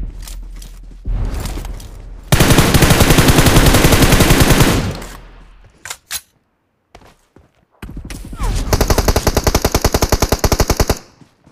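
Loud, close bursts of automatic gunfire from the Battlegrounds Mobile India video game come in rapid rhythmic volleys, with scattered single shots and short quiet gaps between them.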